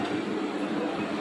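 A passenger train running on a suburban line near Khandeshwar, heard from on board or beside the track as a steady, loud broadband rumble with no distinct clacks.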